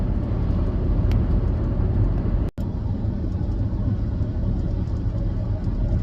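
Steady low road rumble from the inside of a car in motion on a sunny day, a continuous engine and tire drone with one brief dropout midway and no talking.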